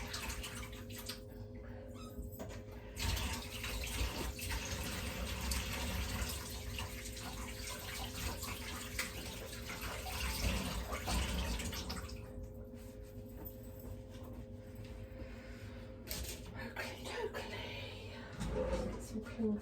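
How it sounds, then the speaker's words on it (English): Tap water runs steadily into a kitchen sink while hands are washed, a continuous close splashing rush with occasional clatter. "I'll just wash my hands."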